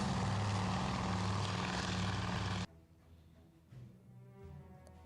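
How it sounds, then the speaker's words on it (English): The engine of a PBY flying boat drones loudly and steadily in the naval strategy game Task Force Admiral, then cuts away abruptly to a quieter, lower rumble. "You should still be able to hear me over the roar of the engine."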